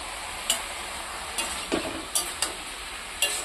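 Capsicum sizzling in a hot pan as it is stirred, a steady frying hiss with a few sharp clicks of a utensil against the pan.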